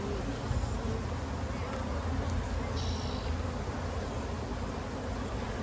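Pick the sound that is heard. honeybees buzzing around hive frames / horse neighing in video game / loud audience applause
honeybees buzzing around hive frames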